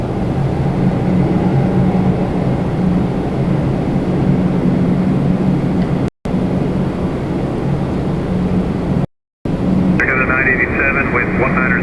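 An Air Canada plane taking off from runway 24 right at Toronto Pearson, a steady broad engine roar heard from a distance, loud and continuous with two brief dropouts.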